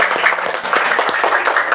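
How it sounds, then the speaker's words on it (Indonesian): A school class breaks into applause, a dense burst of many hands clapping together, loud and close, with some voices mixed in. "tepuk tangan untuk kita semua"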